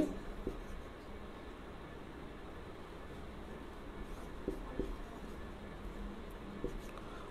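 Writing on a board in a classroom: faint, continuous scratchy strokes with a few small taps, low in level against a steady room hum.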